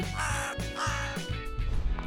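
A raven gives loud, harsh caws, several rasping calls in quick succession over a buzzy, noisy background.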